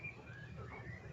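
A white-rumped shama (murai batu) gives a brief, soft whistled call, faint over a low background hum.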